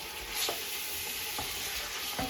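Black pepper, spices and soy sauce fry in a pan for white pulao, giving a loud, steady, hissing sizzle with a few brief stirring clicks, close up and with no talking.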